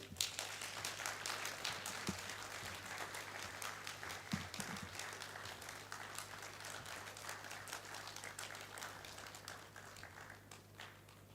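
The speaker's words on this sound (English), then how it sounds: "we give him a rain clap until he gets here" A forum audience gives a sustained rain clap as an honored guest walks to the stage at a procurement and supply chain event, a dense, fairly faint patter of many hands that holds steady for the whole stretch.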